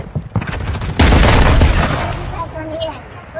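Loud, close gunfire in a shooter video game, opening with a few separate shots and then a dense burst of rapid fire that fades out, followed by faint higher-pitched sounds.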